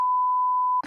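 A single steady censor bleep tone covers a word for most of a second, loud and alone, then cuts off abruptly into a brief burst of voice.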